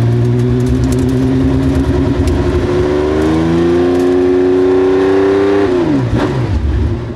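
A Porsche 910 race car engine idles loudly, then revs up and holds a higher pitch before dropping back down, heard close from inside the car.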